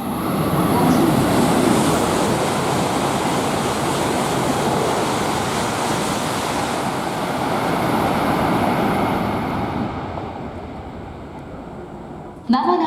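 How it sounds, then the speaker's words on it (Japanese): A Tohoku Shinkansen bullet train races through Furukawa Station, a loud sustained broadband roar and rush of air that builds and holds for about ten seconds, then drops away abruptly near the end. "まもなく上り電車が通過します。"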